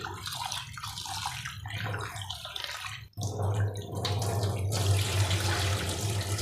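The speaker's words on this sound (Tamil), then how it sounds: "அது நல்லா தேய்ச்சி கழுவிட்டு நல்லா தண்ணியை ஊற்றி ஊற வச்சிட வேண்டியது தான்" Urad dal for idli batter being washed by hand in water, steady splashing and running water that briefly drops out midway, then returns louder and continues close up.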